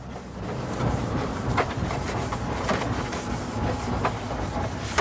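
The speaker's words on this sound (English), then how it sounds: "I'm going to take my brush and clean off the top of the hood as well." A brush scrubs dust, dirt and grease off the top of a black car hood, giving steady close rubbing strokes with short bristly swishes at a fairly even pace, with no talk.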